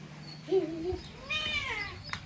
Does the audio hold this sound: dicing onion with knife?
no